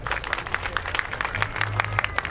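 Clapping from an audience at a motor sport grid ceremony in Japan, an even patter of scattered hands at moderate volume, with a low hum beneath and little crowd noise.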